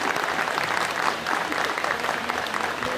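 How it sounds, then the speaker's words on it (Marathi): Loud, sustained applause from a crowded audience at a school reunion gathering for the 2001/02 SSC batch of Gadhinglaj High School, a steady wash of clapping lasting the whole moment. "जोरदार टाळ्या होऊन जाऊ दे."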